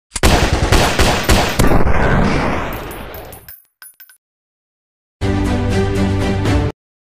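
Machine gun fire in an Android military FPS game opens with loud rapid bursts that taper off, then after a short silence a second sustained volley erupts, close and harsh.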